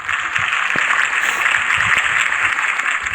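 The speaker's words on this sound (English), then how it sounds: "If only Mr. Wayne, my campaign's largest backer, could have heard that applause" Crowd applauding Harvey Dent's campaign speech in the Telltale Batman game, a steady dense wash of clapping that holds at an even level throughout.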